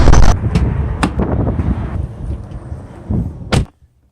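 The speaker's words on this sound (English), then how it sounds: "It's so windy out." Strong wind buffets a microphone outdoors beside a Mercedes C63 AMG, roaring and gusting with sharp bursts and pops, then cutting off abruptly into near silence.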